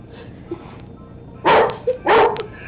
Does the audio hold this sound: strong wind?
no